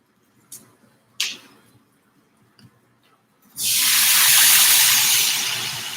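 Water pours steadily from a faucet or jug into a pan of garden broccoli, a loud continuous splashing gush lasting a couple of seconds. A few light clicks and knocks come just before it.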